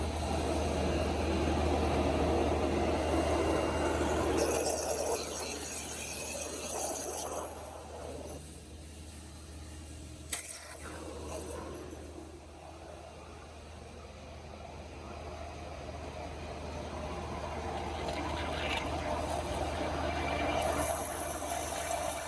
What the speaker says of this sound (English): So that's a water jet process and kind of what it looks like.